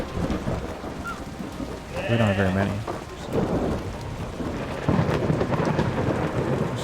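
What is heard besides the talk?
rain and thunder in Kubifaktorium video game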